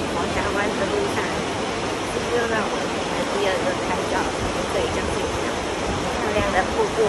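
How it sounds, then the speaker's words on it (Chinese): A waterfall on the road to Milford Sound in New Zealand, a steady loud roar of rushing water filling the whole span, with faint talking mixed underneath. "漂亮的瀑布，那边也有很多的小瀑布。"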